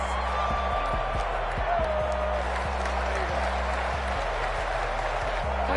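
Stadium crowd roaring in Madden 21, a steady dense wash of cheering and noise filling the whole clip, with a low rhythmic thumping and faint tonal calls over it, loud and continuous.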